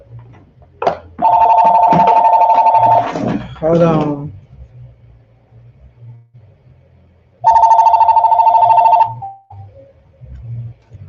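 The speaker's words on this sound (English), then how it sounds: "Okay, we got phones ringing." Telephones ring loudly in two long electronic bursts a few seconds apart, close and clear, with a person speaking briefly between them.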